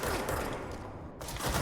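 Rock shotgun in the video game Control firing in a quick string of heavy, close blasts that run almost continuously, with a brief lull before a final burst.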